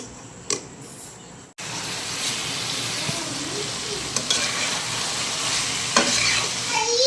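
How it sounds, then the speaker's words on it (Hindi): Sliced onions fry in a pan while being stirred. A quieter hiss jumps abruptly to a loud, steady sizzle, broken by occasional scrapes and clicks of the utensil. "बस इनको ना अच्छी तरह से मैंने भून लेना है, आधे से ज़्यादा इनको पका लेना मैंने प्याज़ों को।"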